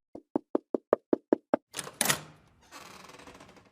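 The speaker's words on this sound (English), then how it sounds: "a stranger came and knocked on the door" Eight crisp, evenly spaced knocks on a wooden door, close and loud, followed by a rustling, breathy noise as the knocking stops.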